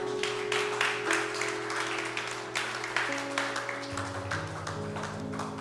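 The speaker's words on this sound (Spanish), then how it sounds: "Dale un fuerte aplauso al Señor" Congregation clapping in praise to the Lord during a Spanish-language Sunday church service, steady applause running throughout over sustained organ or keyboard chords that shift midway.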